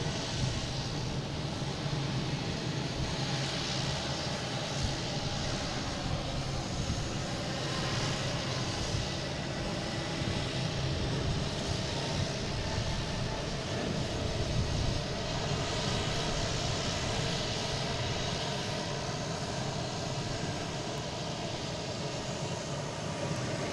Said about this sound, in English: next taking off, we have a JetBlue heading to Chicago in A220, flight 811